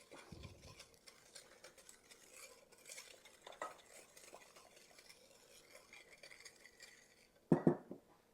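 A spoon stirs apple cake mixture in a bowl with faint scraping, then a sharp clatter of utensil against the dish near the end, quiet and close with no voices.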